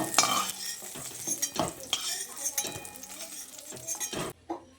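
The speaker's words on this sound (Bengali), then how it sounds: "এবার বেগুনগুলোকে তুলে নিচ্ছি।" Fried eggplant pieces lifted out of hot frying oil with a utensil: a low sizzle runs under repeated metallic clinks and scraping stirs against the pan, close and intermittent, ending abruptly.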